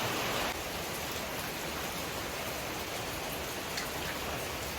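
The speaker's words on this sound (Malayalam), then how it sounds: "അടിപൊളി മഴ വെച്ചാൽ അടിപൊളി മഴ, ഹെവി മഴ." Heavy rain falling steadily, a dense, even hiss of downpour that stays constant and close throughout, with no voices.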